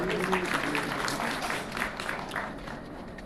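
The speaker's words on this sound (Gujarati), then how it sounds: "ખૂબ ખૂબ તાળીઓથી આપણે વધાવી લઈશું" Audience applause at a political gathering in Gandhinagar, Gujarat, honoring Congress MP Geniben Thakor, a steady wash of clapping from a crowd over a faint murmur of voices, holding fairly even throughout.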